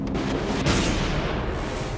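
Sparse Brazilian cannon fire on a historical battlefield, heard as a dense, rumbling roar of distant artillery with one brief stronger boom surge, loud and continuous with no voices.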